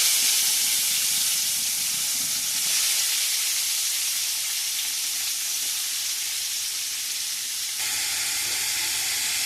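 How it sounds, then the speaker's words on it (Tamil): Onions and tomatoes fry in hot oil with cinnamon and cloves, making a loud, steady sizzle and hiss close by, with faint stirring beneath it throughout. "பட்டை கிராம்பு பொரிஞ்சோடனே வெங்காயம் தக்காளி ஆட் பண்ணிக்கலாம்."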